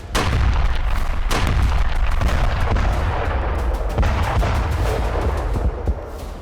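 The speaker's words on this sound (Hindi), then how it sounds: "गाजा में इजरायली सेना की बमबारी" Bombs from an Israeli army bombardment of Gaza explode in a loud, continuous barrage, with heavy booms and sharp cracks repeating throughout.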